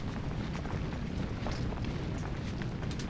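Cannon fire in the Civil War strategy game Ultimate General: Civil War, a dense, continuous rumble of booming artillery reports rolling on without pause, with no talk over it.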